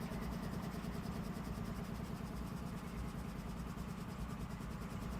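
A CP AC4400 diesel locomotive idles in Train Simulator, giving a steady, close low rumble with an even mechanical drone that holds constant throughout, with no voices.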